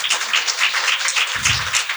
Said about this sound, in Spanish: Un aplauso para Matías Batistón.